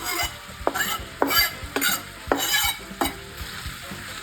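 Pork belly stir-fries with garlic and Japanese leek in a pan, a close sizzle punctuated by sharp, rhythmic scrapes and taps of a utensil tossing the food, with no one talking.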